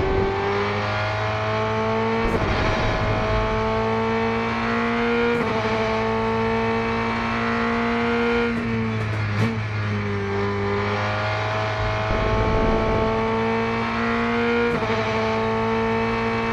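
A race car engine in the Rennsport racing game howls at full throttle and stays loud and sustained throughout, its pitch climbing and dropping at each gear change.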